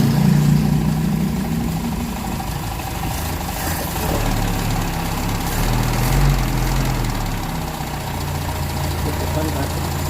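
Car engine with a distributor ignition, just repaired after a missing distributor spring, idles steadily and close, with a low even rumble running throughout while someone talks over it.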